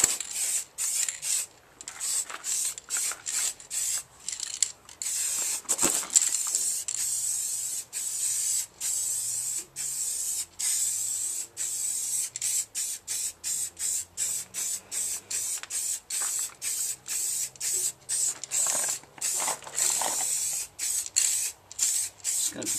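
Aerosol can spraying matte paint for a chalky rat-look finish, with many short hissing bursts separated by brief gaps over a low background rumble, close by and without speech.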